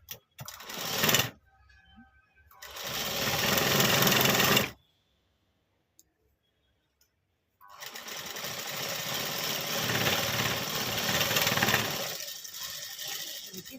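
A sewing machine stitches the puffed sleeve of a readymade lehenga blouse in two bursts of steady whirring, a short one, then a pause, then a longer run. The motor sounds close and fairly loud, with no voices.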